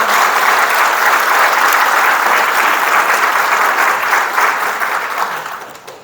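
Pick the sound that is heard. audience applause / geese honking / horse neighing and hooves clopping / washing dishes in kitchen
audience applause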